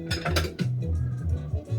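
A cheap old bowl bought at Daiso for a dollar is handled among other dishes, giving several quick, close clinks and knocks in a brief cluster, with no talking.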